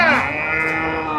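At a cattle market in Vellore district, a single loud, close moo from a dairy cow sweeps down and then holds as a drawn-out low call, with faint crowd noise behind it.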